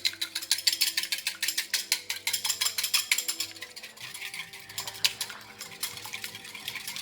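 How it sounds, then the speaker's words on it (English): One egg is beaten in a bowl with a whisk or fork until yolk and white combine, a quick rhythmic series of clinking, tapping strokes against the bowl, close and fairly brisk, slowing slightly toward the end, with no voices. "In the meantime, I'll just beat up these eggs here."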